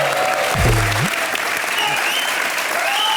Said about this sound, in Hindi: जोरदार तालियां पूजा के